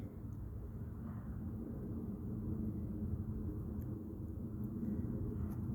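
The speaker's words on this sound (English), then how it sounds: "It's a big plane." A big airplane flies high overhead, heard as a faint, steady low rumble and broad roar that holds evenly for several seconds, distant and with no voices.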